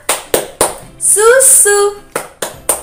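Kindergarten children play the tepuk 4 sehat 5 sempurna clapping game, with sharp rhythmic hand claps close by broken by a brief sung or chanted phrase.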